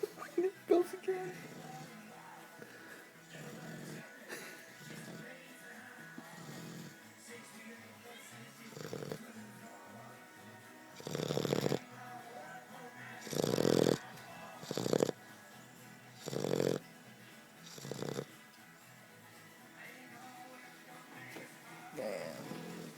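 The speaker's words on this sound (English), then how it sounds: "Definitely snores loud." A four-month-old Old English Bulldog puppy snores loudly and close, a run of rasping, snorting breaths in an irregular rhythm, with a person speaking quietly between them.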